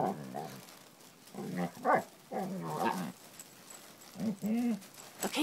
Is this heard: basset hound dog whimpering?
yes